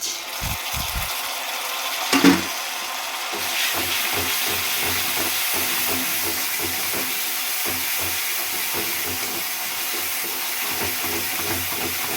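Ginger-garlic paste hits lightly fried onions in a pan for a meat dish, giving a steady close hiss with soft rhythmic low scraping and a brief clatter early on.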